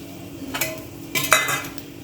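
Curry leaves and spices being tempered for avial, a soft background sizzle broken by two sharp clusters of metal spoon scrapes and clinks against the pan.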